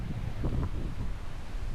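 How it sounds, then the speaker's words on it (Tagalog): Strong wind roars across a mountain campsite at Marcy's Point in Tanay, Rizal, a dense, close rumble of microphone buffeting with faint rustling and no talk. "sobrang lakas ng hangin, katulad niyan, yung hangin na yan"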